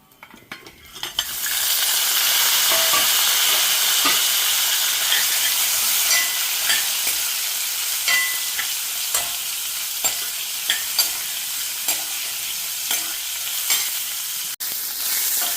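Onions frying in hot oil in a pan for a Telugu horse gram dish, a loud steady sizzle that bursts in after a quiet start, with scattered stirring clicks throughout.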